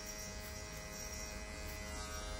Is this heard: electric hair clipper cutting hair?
yes